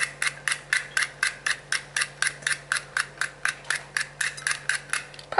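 A scraper shears a cabbage for Asian coleslaw in about twenty quick, evenly spaced rasping strokes, close and crisp, in a steady rhythm without talk.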